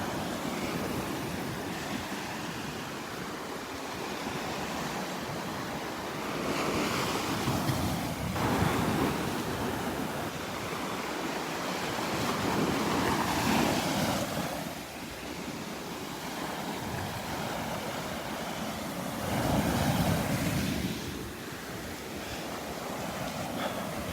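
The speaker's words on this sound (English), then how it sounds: "The waves are loud this morning." Ocean surf at Delnor-Wiggins beach on a morning walk, with waves breaking and washing ashore in repeated swells, loud and continuous with gusts of wind buffeting the microphone and no talking.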